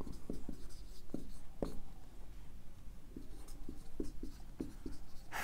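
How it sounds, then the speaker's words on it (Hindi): Pen scratching across paper as a single line is written by hand, a series of short, crisp strokes and taps at close range with steady faint background hiss and no voices. "तो एक लाइन लिख दीजिए"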